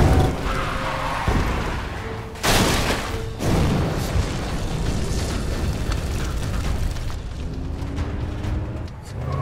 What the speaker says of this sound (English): Pipe bombs, take evasive action.